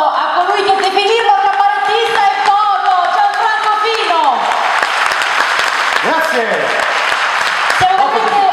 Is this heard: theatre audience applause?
yes